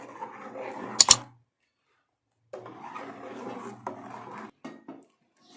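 A metal kadai is handled before dry fruit is roasted in it: a sharp double clank near the start, then quieter scraping and knocking after a short silence, with no talk.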